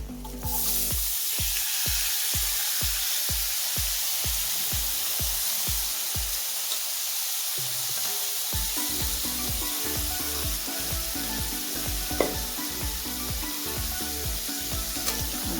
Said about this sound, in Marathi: ते सर्व मिक्स करून घ्यायचं. उसळ घालून घ्यायची आहे.